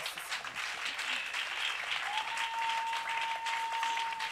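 A church congregation applauds together, steady dense clapping throughout with a faint sustained tone entering halfway, no clear talk over it.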